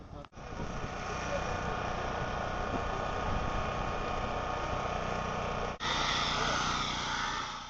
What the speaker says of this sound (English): they're going to have to do a little more drilling